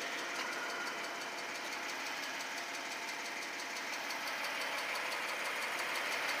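A 2010 Jeep Wrangler engine idles steadily with a dense, even rumble and a faint knocking texture, heard close and alone with no talk.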